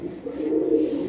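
Fancy imported pigeons at a pigeon farm coo in a steady, close run of low, throaty murmurs, rolling continuously for about a second with no voices.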